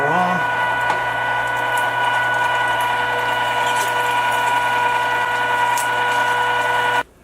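Electric meat grinder running steadily while grinding meat for homemade chipotle sausage, a loud continuous motor whine with a constant hum that stops abruptly near the end.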